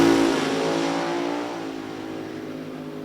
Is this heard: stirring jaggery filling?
no